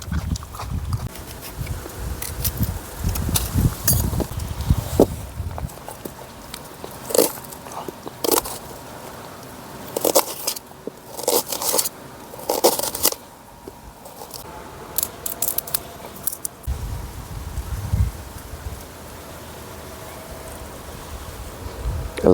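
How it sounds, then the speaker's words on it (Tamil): A knife chops through big onions during village cooking outdoors, crisp crunching cuts in irregular bursts, some rapid runs and some spaced strokes, close and clear against a quiet background with occasional low thumps. "அடுத்து ஏதாவது பெரிய வெங்காயம் வெட்டிக்கலாம்."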